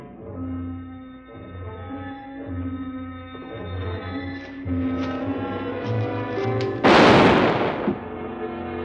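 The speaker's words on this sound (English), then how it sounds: "These gunshots will bring the whole town in." Gunfire in a western drama: a loud, sharp shot bursts out near the end, following tonal dramatic music and low rumbling sounds.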